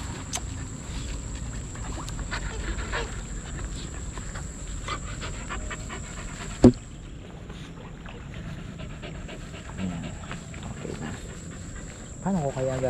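A dog pants in short, rapid breaths close by outdoors in a garden, under a constant high hum, with a sharp knock partway through and brief voices.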